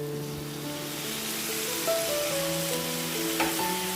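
Coconut milk poured into a pan of frying jackfruit seed roast, giving a steady, close sizzle with a soft hiss throughout and faint stirring, no speech.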